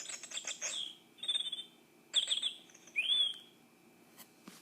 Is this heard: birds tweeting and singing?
yes